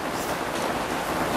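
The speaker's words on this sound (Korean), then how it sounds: "근데 갑자기 만나는 소나기도 괜찮네요" A sudden summer rain shower comes down in a steady, close hiss of falling drops, an unbroken wash of noise with no voices.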